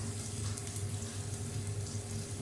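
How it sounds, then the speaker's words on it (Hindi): Sliced onions and bitter gourd frying in oil in a pan, a steady soft hiss and sizzle that stays even and fairly faint throughout, with no voices. "दूसरी तरफ हमारा जो प्याज है वो फ्राई हो रहा है या पक रहा है।"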